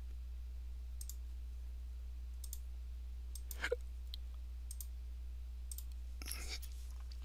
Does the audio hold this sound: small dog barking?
no